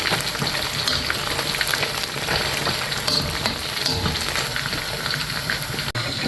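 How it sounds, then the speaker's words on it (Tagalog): Kaldereta simmering in a pot while being stirred, a continuous bubbling, sizzling hiss with faint scraping, close and steady, no voices. "Haluin lang natin."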